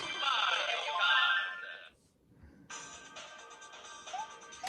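Game sounds and music from the small built-in speaker of an ODROID Go Advance handheld, a bright tonal burst, a short gap, then steadier chiming electronic tones with faint room noise.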